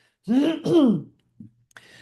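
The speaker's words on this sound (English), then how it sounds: "I'm going to clear my throat." A person clears their throat twice with a close, voiced rasp, followed by a faint short breath.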